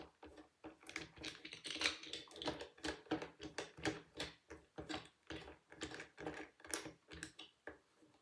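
Screws being turned into a Z-frame table frame for cross-stitch: a quiet, close series of rapid clicks and ratcheting ticks, irregular and continuous, with no talking.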